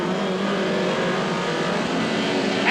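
A 1990 BTCC touring race car leaving the pits, its engine a dense continuous roar that holds steady throughout, loud and close with no talking over it.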